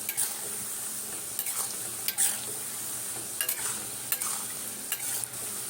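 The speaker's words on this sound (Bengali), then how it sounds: "এইভাবে কন্টিনিউ নেড়ে যেতে হবে" A semolina nimki mixture is stirred continuously in a frying pan, giving repeated scraping strokes over a steady sizzle with light metallic knocks at uneven intervals. No one speaks.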